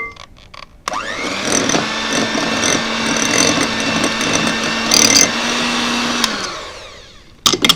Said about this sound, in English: I'm going to beat these together.